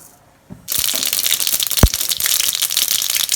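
Mustard seeds dropped into hot oil in a kadai burst into a dense, steady crackle and sputter, with one sharp pop partway through, after a quiet start.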